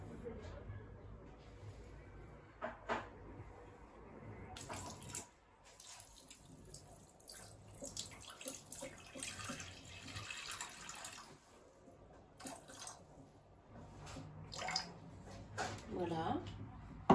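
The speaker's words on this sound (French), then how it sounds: "On va venir mettre les 200 g d'eau." Water, 200 g of it, is poured into a Thermomix bowl while preparing Tunisian fricassé dough, giving a splashing, trickling flow in bursts with quieter gaps, heard alone without talk.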